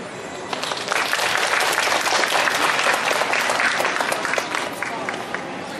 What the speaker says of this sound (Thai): ขอเชิญปรบมืออีกครั้งหนึ่งมาเลยครับ